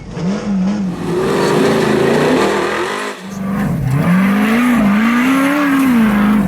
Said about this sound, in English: the greatest class, Ultra 4 race cars